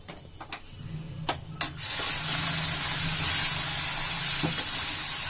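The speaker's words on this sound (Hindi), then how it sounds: "अब इसमें हम पानी डालेंगे।" Water poured into semolina upma in a hot pan sets off a sudden, loud, sustained sizzle after a few light clatters, hissing steadily to the end.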